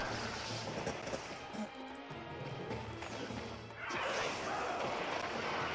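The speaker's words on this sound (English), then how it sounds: "No, god damn, a tail swipe." In the Monster Hunter Ultimate video game, the monster Yian Garuga lands a tail swipe, a heavy crashing whack that bursts into a loud, noisy roar of game effects, with game sounds playing throughout.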